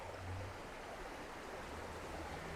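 Water flowing in a creek beside old railroad locomotive shop ruins makes a steady, broad rushing wash that stays even and fairly quiet throughout.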